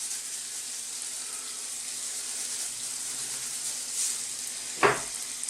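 Beef for stroganoff, seasoned with black pepper and salt, cooks in a pan over low heat with a steady, faint sizzle throughout, and a single brief clink sounds near the end.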